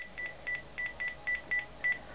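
Telephone number dialed on a keypad, a string of about eight short, evenly spaced touch-tone beeps, clear and moderately loud over faint background hiss.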